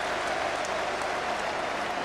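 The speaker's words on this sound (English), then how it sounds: "Gordon Jury goes off to great applause." A football stadium crowd at a 1997 Rangers vs Hibernian match applauds a substituted player leaving the pitch. The sound is a dense, even wash of distant clapping and crowd noise.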